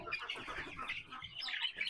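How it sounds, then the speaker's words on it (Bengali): Farm chickens in a poultry pen cluck and chirp in a dense, busy chorus at moderate distance, with no talk. "ফার্মের মরগ এই যে আমাদের এখানে কিন্তু ফার্মের মরগ আছে ফার্মি আছে দেশি আছে"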